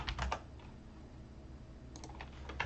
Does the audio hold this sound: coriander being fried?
no